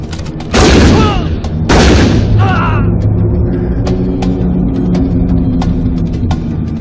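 Two loud, close gunshots ring out in quick succession in a movie scene, each with a long echoing tail, followed by scattered clicks and faint rumble.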